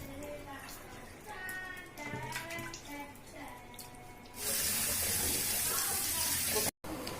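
Water runs from a tap into a kitchen sink during handwashing before cooking, a loud steady rush starting partway through after quieter clattering and faint kids' voices.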